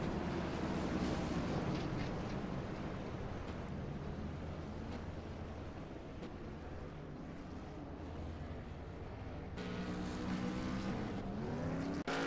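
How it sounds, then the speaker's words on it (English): A race car accelerating on a pace lap in the iRacing simulator, its engine holding a sustained loud drone that climbs in pitch as it gains speed to over 100 mph, alone without talk. "bringing this car up to well above 100 miles an hour on the pace lap"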